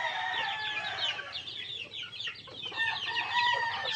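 Young chicks inside a chicken-net enclosure on a farm make a dense, steady chorus of high peeps and chirps, close and fairly loud throughout, with a faint low hum beneath.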